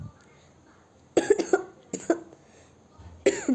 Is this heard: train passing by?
no